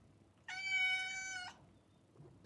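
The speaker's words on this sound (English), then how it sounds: "Was that supposed to be a cat?" A single clear cat meow, about one second long and steady in pitch, fairly close and alone over a faint background hum.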